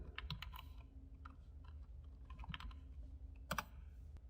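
A name being typed on a computer keyboard for a Word document: quiet, uneven bursts of key clicks with short pauses, a sharper cluster near the end, over a low steady room hum and no talking.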